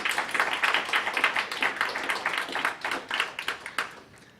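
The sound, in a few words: round of applause for the organizers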